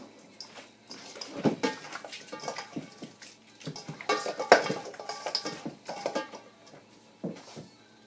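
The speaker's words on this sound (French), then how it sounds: "je vais juste bien mélanger le citron et l'orange sûr avec la viande de bœuf" Raw beef being mixed by hand with lemon and sour orange in a bowl, heard as wet squelches and sloshing with clinks against the dish. The irregular bursts sound close and moderately quiet.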